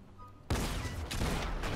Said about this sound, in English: is he shooting fireworks at me?